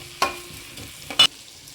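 Small onions for chicken sukka fry in a pan with a soft, low sizzle, broken by two brief, brighter bursts as they are stirred or dropped in.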